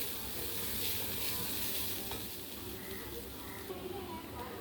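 Boiled moong dal sundal sautéed in a pan, a steady dense sizzle and scraping stir that runs throughout with a voice talking over it.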